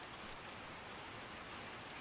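Steady rain falling in the Little Nightmares 2 video game, a soft, continuous broadband hiss of drops that stays even and fairly quiet throughout, with no voices.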